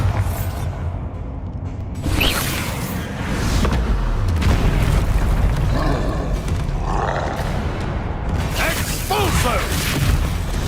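Bombarda spell explosions in Hogwarts Legacy boom and rumble in repeated loud blasts, with roaring, grinding bursts layered over combat noise and brief vocal grunts.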